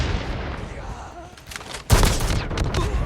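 Gunfire in the mobile shooter Call of Duty Mobile: a quieter stretch of distant shots, then a sharp loud burst of close rapid fire, heard under a player talking.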